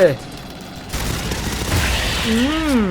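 Bursts of gunfire and a blast-like rumble from the video game Aliens: Fireteam Elite, with a tonal voice-like sweep near the end, fairly loud and continuous.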